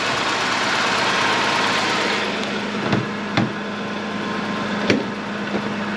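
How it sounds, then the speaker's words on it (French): A BMW E36 325i fitted with an M3 intake idles steadily up close with the idle valve fully closed, a constant loud rumble broken by a few sharp knocks. "Je laisse le moteur chauffer."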